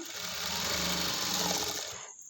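A sewing machine stitches the front part of a blouse, giving a fast, even mechanical whir up close for about two seconds before it stops abruptly.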